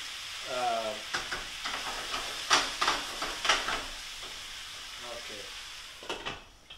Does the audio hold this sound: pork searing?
yes